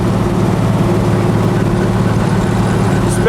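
A 5-ton military vehicle's 855-cubic-inch, roughly 14.7-liter diesel engine idles close by with a loud, steady low rumble and an even pulsing beat throughout.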